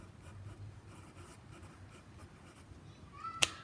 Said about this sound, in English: I should write that word down for you